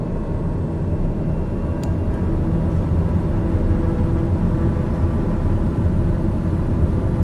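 Aircraft engines at full takeoff power in Microsoft Flight Simulator, a loud, steady, broad rumbling drone holding constant throughout.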